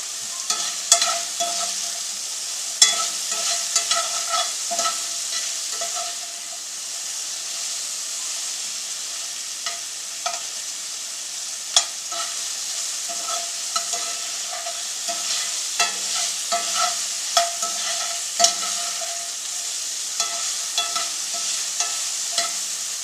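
Rice fries in a pan with a constant bright sizzle, while a utensil stirs and scrapes it in irregular bursts of clicks and scuffs throughout, close up and without speech.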